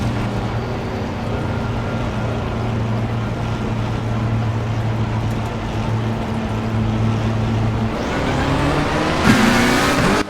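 Race car engine idling at the Nürburgring in a racing video game, a steady low drone that rises into a revving launch near the end, loud and close with no talk.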